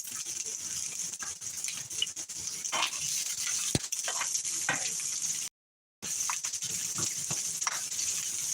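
Onions and garlic sautéing in a pan for spaghetti, a steady soft sizzle and patter running throughout with faint stirring clicks, no voices over it.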